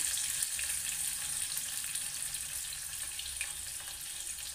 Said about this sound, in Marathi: आता आपलं तेल गरम झालंय, त्याच्यामध्ये आपण कांदा घालून घ्यायचा आहे बारीक चिरलेला.